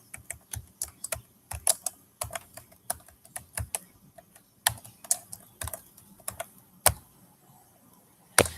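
Irregular bursts of crisp key clicks from a computer keyboard, close and clear, with short pauses between typed runs and no talking.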